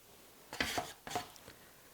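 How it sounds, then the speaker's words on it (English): A palette knife spreading and scraping paint on canvas in a mixed media piece, two short close strokes in succession with a fainter third touch, otherwise quiet. "I love painting with my knife."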